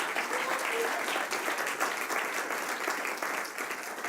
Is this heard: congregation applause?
yes